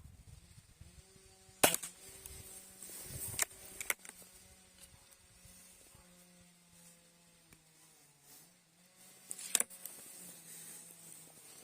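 A Shanghai B1-1 air pistol fires Luman 0.57 g pellets at a 10-metre target, with sharp, clipped snaps breaking a quiet room over a faint steady hum.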